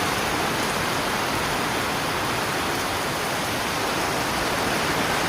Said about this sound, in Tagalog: Ayan guys, oh, lakas ng ulan.